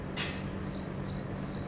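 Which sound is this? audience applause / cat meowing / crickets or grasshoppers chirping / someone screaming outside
crickets or grasshoppers chirping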